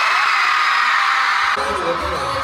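Concert crowd at a show in Dallas letting out a sustained high scream on cue, loud and dense for about a second and a half before the noise breaks off into scattered voices.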